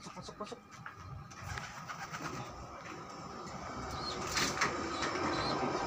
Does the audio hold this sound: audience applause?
no